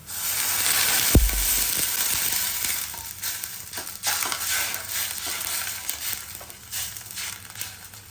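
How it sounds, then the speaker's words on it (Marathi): Water is poured into a hot tempering of red chilli powder and onion, setting off a loud, close burst of crackling sizzle that slowly settles into uneven bubbling and spitting over several seconds, without speech. "रंगा करता थोडंसं लाल तिखट फोडणीत घालायचंय आणि जरा कांदा परतवून घेतला जरा कांद्याचा रंग बदलला की त्या फोडणीत पाणी घालायचं"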